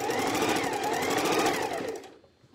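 A sewing machine stitching fabric runs with a continuous rapid mechanical whir close by, then slows and stops near the end.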